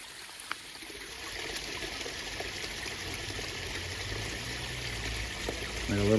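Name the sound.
small forest waterfall trickling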